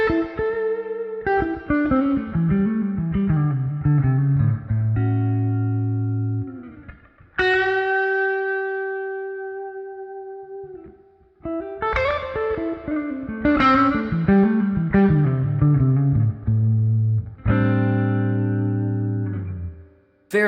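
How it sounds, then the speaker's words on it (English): An electric guitar on its neck pickup runs through an Amplitube 5 amp model, playing warm, sustained melodic phrases with ringing single notes and chords, clean and close, with pauses and long held tones. "So this is the neck pickup running straight through the amp model"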